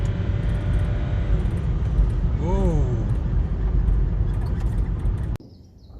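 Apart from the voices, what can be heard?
BMW car engine with turbo boost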